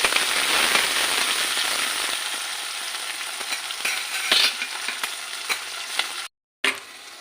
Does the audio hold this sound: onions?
yes